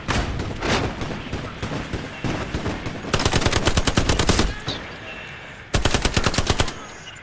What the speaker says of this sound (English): there's a machine gun on the left side